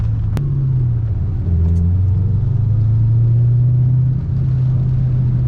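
A Ford Mustang's engine drones loud and close while street drifting in the rain, a steady low rumble with shifting revs and a brief surge near the end, no talking.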